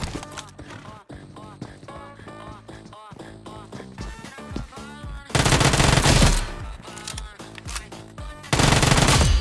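Rapid bursts of automatic gunfire crack out in the BGMI battle royale mobile game, with loud close volleys over a layered game soundtrack and effects.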